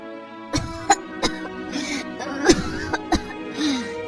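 A woman in a courtyard coughs and clears her throat in short, separate bursts, about six harsh coughs spaced irregularly, close and moderately loud, ending in a rasping wheeze.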